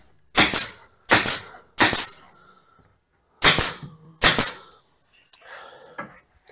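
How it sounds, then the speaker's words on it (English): An 18 gauge pneumatic stapler fires into a wood cabinet in five sharp, loud cracks, three in quick succession and then two more after a short gap, followed by faint handling clatter. "Now you're ready to staple the cabinet. And as again, I'm using the 18 gauge stapler."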